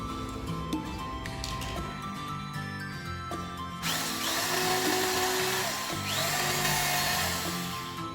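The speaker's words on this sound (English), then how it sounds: "Then I drill on this section." A power drill bores into a homemade weapon part, first running at a lower pitch with intermittent clicks and taps, then surging into a louder, harsher whine as the bit bites, close up and continuous.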